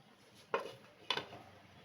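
A metal lid is set onto a cooking pot holding vegetable fritters, giving two close, bright clinks about half a second apart over a quiet kitchen background.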